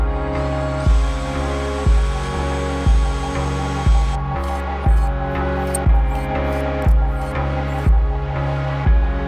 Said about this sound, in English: The last step is to screw the flange into the studs there.